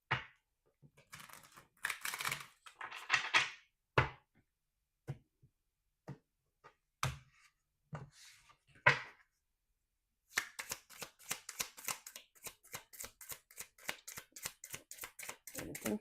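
Rapid riffling tarot card shuffles, a burst of crisp flutters after scattered soft taps and card handling, close and moderately loud.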